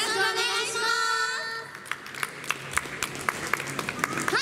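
Audience applause and rhythmic clapping at a live idol group concert, with a sung or spoken tonal passage fading out as scattered, sharp hand claps build up and continue through the rest.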